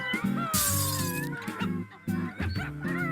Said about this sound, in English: Then they burst through the window into the room so that the glass clattered.